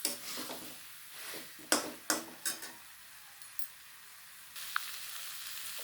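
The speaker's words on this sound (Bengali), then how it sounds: "দিয়ে আবারও কিছুক্ষণ কষিয়ে নেব" Small potatoes and spices sizzle as they are sautéed in a pan for potato dum, a soft steady fry broken by several sharp scrapes and clinks of a spoon stirring against the pan.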